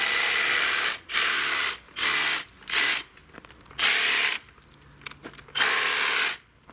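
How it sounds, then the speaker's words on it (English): Shears pruning lavender flower spikes make about six loud, close bursts of whirring cutting noise, each lasting under a second, separated by short quiet gaps. "Just a little bit more pruning on the far side."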